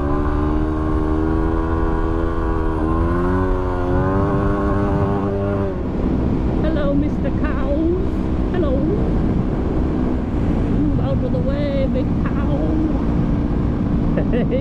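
A Yamaha WR250R dual-sport motorcycle on a Simpson Desert outback road revs hard for a wheelie: a rising, climbing engine note for about six seconds, then a steady roar of wind buffeting the microphone as the bike rides on.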